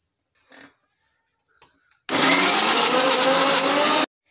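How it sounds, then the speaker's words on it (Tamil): Mixer grinder blending prawns under a lid: a few faint handling knocks, then a loud, steady motor whine starting abruptly and running about two seconds before cutting off, close by. "இப்போ மூடி போட்டு அரைச்சி வச்சுக்கலாம்."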